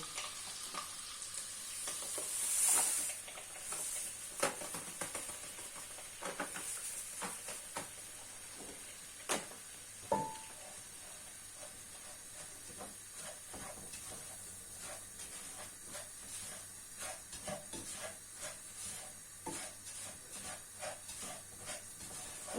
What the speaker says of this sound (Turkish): Ben şimdi 500 gram irmiğini ilave ediyorum. Güzelce rengi dönene kadar kavuracağız bunu.